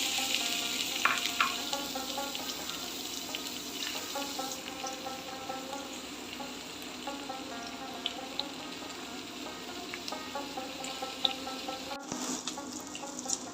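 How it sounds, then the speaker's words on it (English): Steady crackling sizzle of onions frying in two tablespoons of hot oil, continuous and close, with occasional sharper pops and a brief stir near the end. "I'll be frying onions in it."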